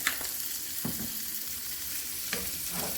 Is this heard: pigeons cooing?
no